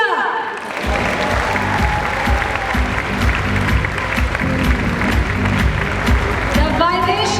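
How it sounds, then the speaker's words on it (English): A panel discussion audience applauds to welcome footballer Bhaichung, with sustained loud clapping filling the hall while an announcer's voice rises over it near the end. "Please welcome them with a round of applause as I announce them"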